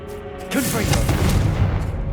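Confringo fire-blast spell cast in Hogwarts Legacy, a sudden loud booming burst at about half a second that rolls into a sustained crackling rumble, with a voice speaking over it.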